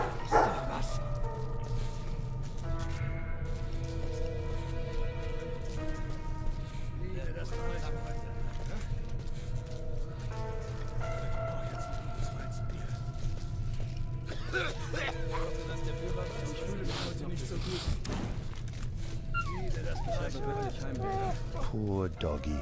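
A dog barks and whimpers in the War Mongrels video game, with intermittent yips and whines scattered over a bed of music and a voice talking through much of it.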